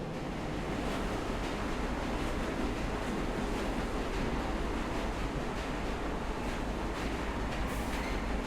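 A train rolling along in the video game Luna Abyss, a steady, dense rumbling roar with a rhythmic clatter, continuous and unbroken throughout with no voices.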